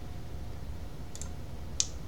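Two quick, light computer mouse clicks, a close double click followed by a single sharper one, over a steady low hum from a computer running Linux in a virtual machine.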